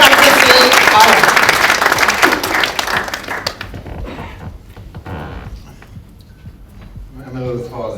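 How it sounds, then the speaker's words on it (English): Audience applause greets a speaker at a foundation's launch event, loud and dense at first, then thinning into scattered claps that fade while a voice talks over the tail. "You gotta clap a little bit now."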